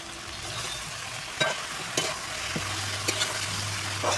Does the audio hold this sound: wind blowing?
no